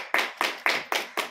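Loud, close hand clapping at an awards-style gathering, five sharp even claps in steady rhythm with no talk over them.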